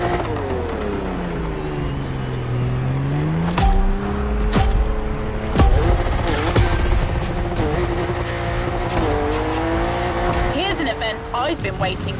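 A BMW M4 drifts in The Crew Motorfest, its engine note sweeping up and down with sustained tire squeal and skidding, loud and close, while a person talks over it throughout.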